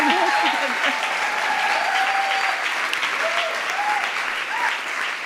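An audience claps for someone speaker at a talk, a continuous burst of applause that holds steady and then thins toward the end, with her voice briefly heard over it.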